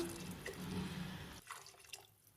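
Water poured from a tumbler into a cooking pot of mint pulao with coconut milk, a steady close splashing rush that stops after about a second and a half, leaving quieter drips.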